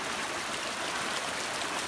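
Cold creek water rushes steadily in the Great Smoky Mountains, a close, loud, broadband wash with no pauses and no voices.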